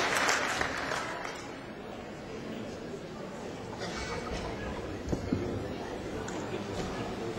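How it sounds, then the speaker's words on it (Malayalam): Scattered applause and crowd chatter from an audience at a stage talent contest, faint and fairly distant, with a few louder claps near the end. "നിങ്ങൾ ദയവ് ചെയ്ത് ഇവരെ കൈയടിച്ചൊന്ന് പ്രോത്സാഹിപ്പിക്കണം"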